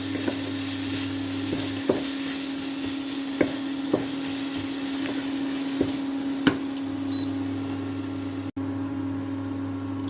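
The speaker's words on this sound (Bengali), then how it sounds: "এবার এই মশলাটাকে ভালো করে ভেজে নেব" Spice paste with green chili and chili powder sizzles and fries in a pan for a fish curry, a steady crackling hiss with occasional sharp knocks of stirring over a low background hum.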